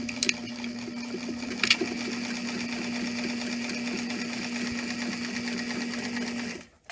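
A sewing machine runs steadily, stitching bias tape onto the raw edge of a dress strap, its fast even whir holding at one speed with faint clicks before stopping abruptly near the end.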